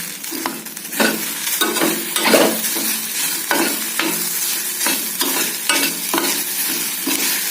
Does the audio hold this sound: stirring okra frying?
yes